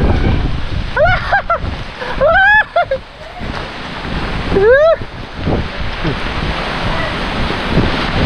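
Loud, gusting near-storm wind roars and buffets the microphone at a hut, with a few brief voice calls rising above the rush.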